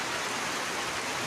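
A downpour drums on Morrelganj market, a thick, even roar of heavy rain close by with no voices.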